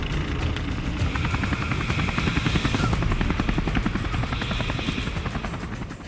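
A Teton County Search and Rescue helicopter flies to a call at Grand Targhee ski area, its rotors making a loud, steady, rapid thumping chop throughout, with no voices.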